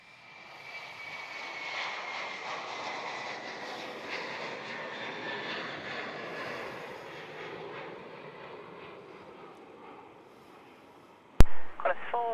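Qantas airliner takes off from runway 16 at Melbourne Airport heading for Jakarta, a loud roaring jet engine passing close by then fading away, followed by a sharp click and brief radio chatter.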